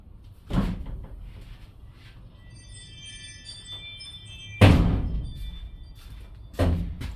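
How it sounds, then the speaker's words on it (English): Several loud thumps and clatters of a door being handled, with a quiet stretch and faint high tones in between, close to the microphone. "Let me open this door."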